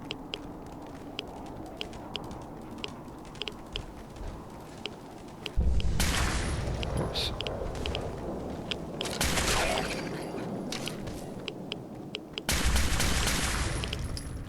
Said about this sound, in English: So we can pretty much just hang out here and shoot them all.